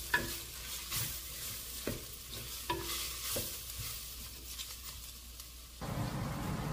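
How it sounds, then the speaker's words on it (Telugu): Sliced onions fry toward light brown for a mutton keema biryani, giving a quiet, even sizzle broken by several scraping stirs of a spatula against the pan. "ఆనియన్స్ వేసుకొని కొద్దిగా ఫ్రై చేసుకోవాలి"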